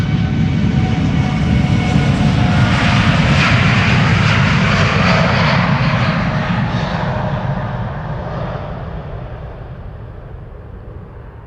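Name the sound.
TUI Boeing 787 Dreamliner jet departing Schiphol, engines roaring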